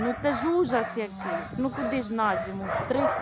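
Shaggy dogs overdue for a winter trim yip and whimper in short, whiny bursts, close by and mixed in with someone talking continuously over them.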